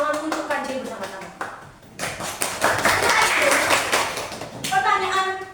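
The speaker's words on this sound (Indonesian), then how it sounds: "Semua orang memberi tepuk tangan untuk Kancil bersama-sama." A short burst of group clapping for Kancil in a children's story about rupiah, set between stretches of a narrator talking.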